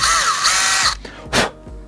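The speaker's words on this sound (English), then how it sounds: "I'm gonna drill out where the weed guard goes because that filled in with paint" A drill bit spins up to a high, steady whine while drilling paint out of the weed-guard hole of a homemade fishing jig, then stops, followed by a brief second burst and rattling handling noise; loud and close.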